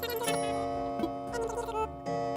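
A shop bell in Animal Crossing: New Horizons chimes at the top of the hour. It rings as a few clear, ringing tones spaced about a second apart, close and moderately soft over faint background music.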